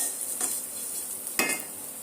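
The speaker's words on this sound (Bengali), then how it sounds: "কালো জিরে আর পেঁয়াজ রসুন কাঁচামরিচটা আমি একটু লবণও দিয়ে দিয়েছি" Black cumin seeds, onion, garlic and green chilli frying in a pan, a faint steady hiss broken by two brief scraping stirs of a spatula.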